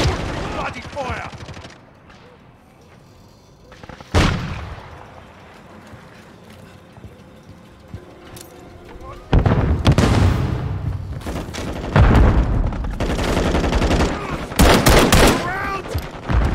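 Gunfire in Call of Duty Modern Warfare 3 during a team deathmatch on the Skidrow map, with sparse distant shots, a sharp blast, then dense close rapid bursts amid game callouts and in-game voice lines.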